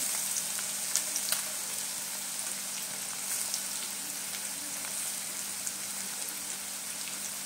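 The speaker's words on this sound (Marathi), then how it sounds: "चांगला असं फ्राय करून घ्यायचं आहे आपल्याला" An onion mixture with curry leaves sizzles softly in a pan, making a faint, continuous crackle with a few small pops.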